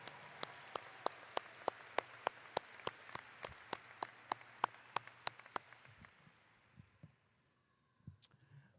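A regular, evenly spaced run of sharp claps rings out at a high school graduation ceremony, about sixteen strong hits in steady rhythm before fading into quiet room noise, with a couple of faint scattered claps afterward.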